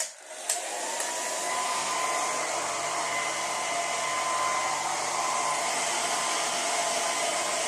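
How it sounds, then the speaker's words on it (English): A hair dryer switches on and blows hair dry with a loud, steady, close whooshing roar. The motor's high whine holds constant throughout, and no one speaks. "So I actually don't remember how to blow dry my hair."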